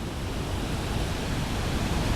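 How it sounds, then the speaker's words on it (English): Heavy ocean sets, around fifteen-foot waves, roll in and break against a harbour wall at Tarfaya, a dense, steady roar of surf and spray close by with no voices. "I'm now at the harbour wall, and this is the sets coming in"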